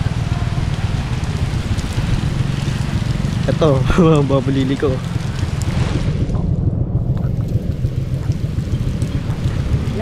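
Heavy rain pours onto a flooded street, a dense, loud, steady hiss with wind buffeting the microphone. A person speaks briefly partway through.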